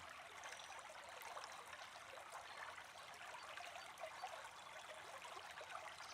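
River water flows in a soft, continuous trickling rush, faint and steady throughout, with no voices.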